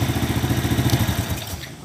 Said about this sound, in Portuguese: Vamos lá funcionar a moto. Pronto, galera, já funcionei.